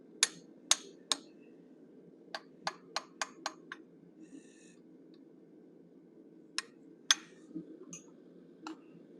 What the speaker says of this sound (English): I'm going to use the same straight hot cut to do his nostrils